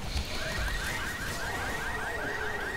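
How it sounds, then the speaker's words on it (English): A car alarm blares inside a video game, its repeating warbling siren cycling steadily and loudly for the whole stretch, with no talk over it. "Shoot the car battery, stop the car alarm."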